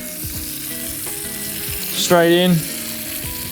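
Frittata egg mixture hits a hot frying pan and bursts into a loud, close sizzle that swells suddenly and then eases back to a softer crackle, with a voice speaking briefly before.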